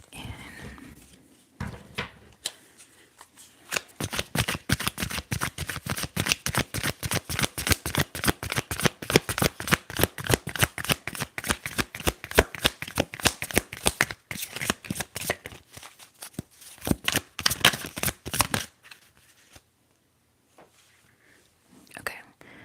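A tarot deck is shuffled in a long run of quick, crisp card riffles, close and rhythmic, with quieter handling before and after.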